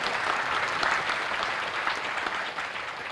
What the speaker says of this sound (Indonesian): tepuk tangan dulu Pak Arman